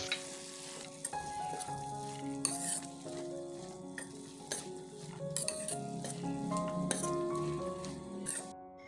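Banana flower and green gram stir-fry being mixed in a hot pan, a steady close sizzle with scraping spatula strokes and occasional clinks of metal throughout, with no talking.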